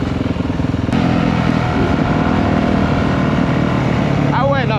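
Motorcycle riding through Miami streets, a steady loud engine drone with traffic and wind noise throughout, voices faintly mixed in.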